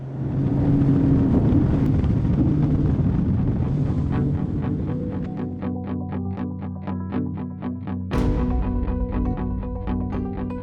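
An SPX RIB 24 motor boat runs at speed at a cruise of about 4,800 RPM. Its steady, loud engine drone carries a strong tonal hum, with rushing wind buffeting the microphone.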